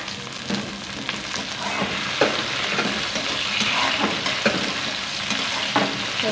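Tomatoes hit onions already browning in a pan for chicken gravy salan, giving a steady, close sizzle of frying with regular scraping and stirring clinks throughout.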